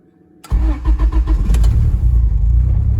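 A car engine tuned to run on E85 cranks and fires up after a cold-start fix, catching quickly and settling into a loud, steady idle close to the microphone.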